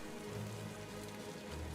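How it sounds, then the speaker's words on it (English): Steady rain patters on surfaces in the video game Limbus Company, a soft, even hiss of droplets with no breaks, fairly quiet and without voices. "the red droplets continue to pelt over our heads with no end in sight"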